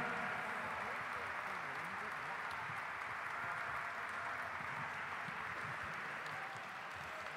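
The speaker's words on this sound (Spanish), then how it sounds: "Grande el aplauso para Carlitos, sí." Steady audience clapping continues throughout at a Chilean Air Force Big Band concert in San Vicente de Taguatagua, a dense even patter with voices mixed faintly underneath.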